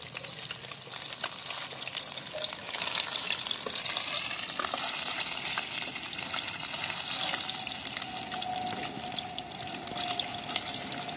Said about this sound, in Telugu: ఎగ్స్ని అయితే ఒకసారి ఫ్రై చేసుకుంటాను. నూనెలో ఫ్రై చేసుకోవాలి.